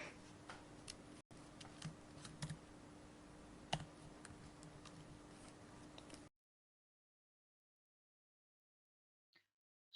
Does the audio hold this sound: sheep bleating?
no